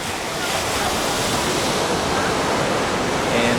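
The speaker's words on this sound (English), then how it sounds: "So I just arrived at Faro Beach." Ocean waves wash onto Faro Beach in the Algarve, Portugal, a constant broadband surf roar heard close and unbroken, with a faint trace of wind.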